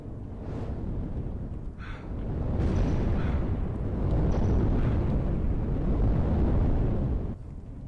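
A steady roaring rumble of fire in Doorways: Old Prototype, swelling louder partway through and holding, with faint crackles over a broad low roar before it drops away at the end.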